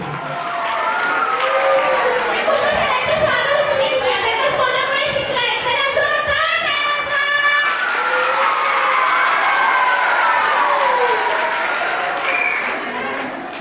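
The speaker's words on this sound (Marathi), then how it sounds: "आपण दोन टाळ्या वाजवल्या त्यांच्यासाठी" A large audience at a math marathon national finals award ceremony in Nashik gives sustained, loud applause that swells and holds for several seconds, mixed with cheering voices, then fades at the end.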